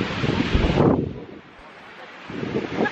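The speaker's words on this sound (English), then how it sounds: "it's so windy" Strong wind buffets the microphone at a beach in loud gusts that drop away briefly and then return.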